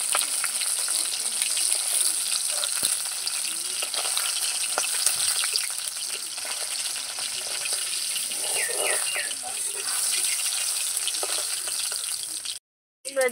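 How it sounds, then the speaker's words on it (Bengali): Small bony fish fry in hot oil, producing a loud, continuous crackling hiss close up that runs almost unbroken before cutting out briefly near the end. "মাছগুলো ভাজা হয়ে গেছে,"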